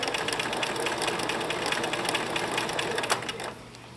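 A sewing machine runs steadily, stitching a zigzag satin stitch for appliqué, a fast even whir with rhythmic needle clatter close by that drops off and slows near the end.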